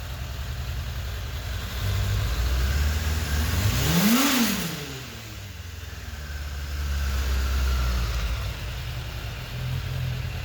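A Suzuki GSF600 motorcycle engine runs after a valve adjustment, idling loudly nearby and rising into a quick rev that falls back, then swells again in smooth throttle blips.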